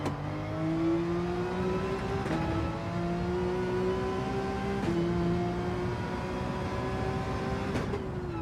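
A Porsche race car engine in Gran Turismo 7 pulls hard and loud, pitch rising steadily then dropping at each of several gear shifts, heard alone without speech.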